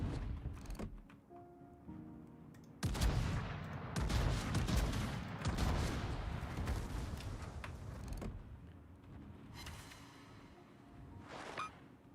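Heavy warship turret salvos in the naval combat game World of Warships boom out in several loud, rumbling bursts, with mechanical creaks between volleys and no voices.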